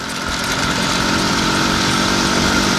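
An IZh Planeta 5 motorcycle engine runs at high revs while riding, a loud, steady, buzzing drone that holds constant throughout with wind noise.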